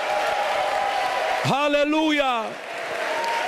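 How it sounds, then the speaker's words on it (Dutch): A church congregation applauds in a sustained, dense wash of clapping, while a voice rings out loudly over it partway through. "geef de Heer een daverend applaus"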